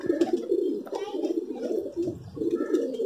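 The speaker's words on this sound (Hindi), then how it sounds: "पट्टी वाला कबूतर है, बहुत सयाना" A banded pigeon cooing repeatedly up close on a rooftop, soft low throaty coos in a steady rolling rhythm, with faint background sounds.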